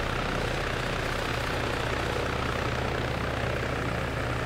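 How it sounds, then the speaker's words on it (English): A military helicopter in the video game Arma 3 comes in to land, its rotor and engine a loud, steady, close drone throughout. "hopefully this helicopter, once it lands, it's just going to go right back to where I have it set"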